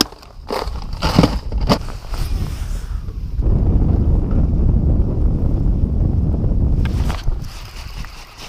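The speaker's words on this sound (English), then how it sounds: "it's still windy, but there's no rain" Gusty autumn wind while bass fishing buffets the microphone with a deep rumbling roar, broken by crunchy handling noises at the start and end.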